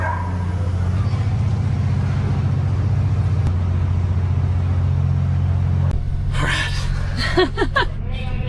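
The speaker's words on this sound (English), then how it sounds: "just backing up onto a ferry across the country" An RV backs slowly onto a ferry for a crossing from Maine to Nova Scotia, its engine a steady low rumble throughout, with a few brief squeaks and scrapes near the end.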